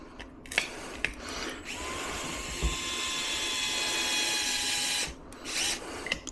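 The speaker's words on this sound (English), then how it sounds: "What do I do with my screwdriver? Then we're gonna install the first screw." A power screwdriver drives a screw while mud guards are installed, with a few short clicks, then a sustained high whine lasting about three seconds before cutting off, followed by a brief second burst.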